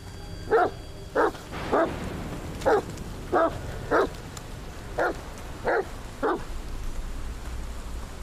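A dog barks repeatedly, nine or so short sharp barks at a steady pace, fairly close, with quiet background noise between them.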